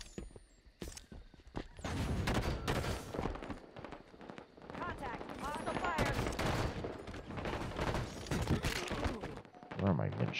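Dense gunfire in Halo 5 multiplayer: clustered bursts of rapid shots and heavy blasts pile up almost continuously, with someone talking over the fighting.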